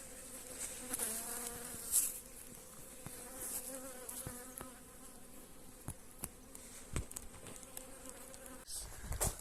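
Bees hum around an open hive during an inspection, a faint continuous drone with scattered clicks and knocks of handling, with no talking.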